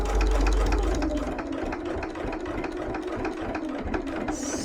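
A sewing machine runs steadily while top stitching a fabric bowl cozy, giving a close, continuous mechanical whir with a fine rapid needle rhythm and no talking.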